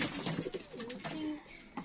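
Pigeons coo softly at close range, a few low rolling calls in quick succession over a quiet background.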